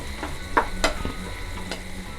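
Chicken keema stirred and fried in a pan, a soft steady sizzle with a few scraping stirs of a spoon against the pan, close and fairly quiet.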